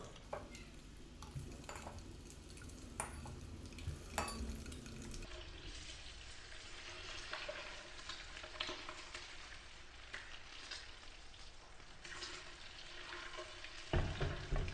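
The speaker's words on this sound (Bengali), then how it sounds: "কড়াইতে তেল গরম হয়ে গেলে আমি আস্তে আস্তে ডিমগুলো দিয়ে দেবো ফ্রাই হওয়ার জন্য।" Eggs frying in hot oil in a wok, with a steady crackling sizzle and scraping stirring sounds close by, continuing without talk.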